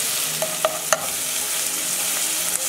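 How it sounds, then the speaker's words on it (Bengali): Sliced onions fry with whole cumin seeds in hot oil for a moong dal tadka, giving a steady, close sizzle broken by a few quick scrapes and taps of a spoon stirring the pan. "এখন আমি দিয়ে দিচ্ছি তার মধ্যে পেঁয়াজ, আমি অল্প ভাজবো, গোল্ডেন ব্রাউন অবধি আমি একটু এটা ভেজে নেব।"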